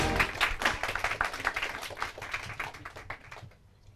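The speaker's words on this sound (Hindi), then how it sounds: "तालियां बजाओ।" A group of students claps together for a team's score during a Hindi school quiz round, dense clapping that starts strong and gradually fades out over a few seconds.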